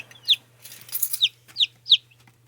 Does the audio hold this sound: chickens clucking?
yes